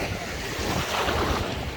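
Sea waves wash in steadily at Kefalos beach on Gökçeada, a loud, continuous surf roar mixed with gusty wind buffeting the microphone, with no voices heard.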